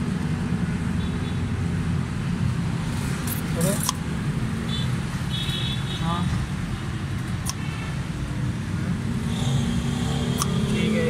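A Suzuki Alto 1000cc with a pick-up, missing and fuel fault idles steadily and close throughout an ignition check, a constant low engine hum with a few small metallic clicks and a brief spoken word over it.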